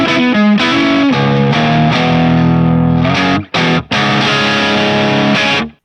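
Distorted electric guitar played through a Centauri drive pedal in an Anagram amp modeler, with sustained chords and single notes ringing loud and close, two brief stops near the end before the tone returns.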